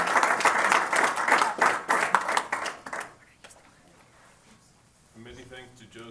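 Brief round of applause from a meeting audience after a steering committee presentation, dense clapping for about three seconds before fading, then a voice speaking.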